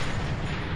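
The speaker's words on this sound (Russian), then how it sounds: "Вот это был выстрел." A rifle shot in the sniper video game Sniper Elite 3, a dense, loud low boom with sustained rumble filling the whole moment, with no talk over it.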